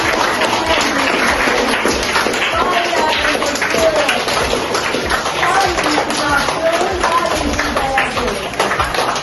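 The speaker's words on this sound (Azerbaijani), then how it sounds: "Alqışlayaq xalqımızı." Schoolchildren in a second-grade class clapping together, a dense continuous patter of small hands applauding at close range throughout, with voices mixed in.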